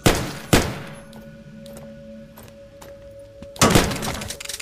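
Gunshots in an Egyptian tomb horror adventure game: two loud sharp blasts close together at the start, a quieter stretch with faint clicks and a low hum, then a final loud burst of fire, no talking.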